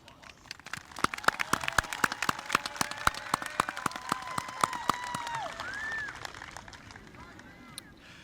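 Graduation audience of seniors and guests applauding in a large hall, a sharp scattered clapping crowd with loud individual claps, with voices and cheers mixed in, moderately distant and steady before trailing off.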